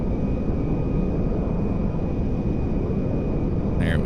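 Space Shuttle Endeavour on final approach to land in Grand Theft Auto, a steady, loud broadband roar of aircraft engine and wind rushing without break from start to finish.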